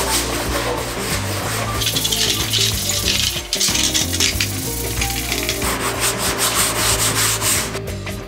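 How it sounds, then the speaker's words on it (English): A sanding block rubs steadily over plastic fender flares for a Ram 1500 pickup in a garage, a continuous close, rasping scrubbing with a brief pause partway through. "the first thing I'm gonna do is take a sanding block and just rough them up a little bit"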